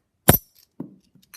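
Silver half dollar coins dropped into a hand make a brief bright clink, then a softer jingling settle and a faint tick, close up in an otherwise quiet room.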